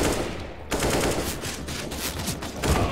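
Rapid, loud gunfire in CS:GO, dense bursts of shots running nearly the whole time with barely a pause.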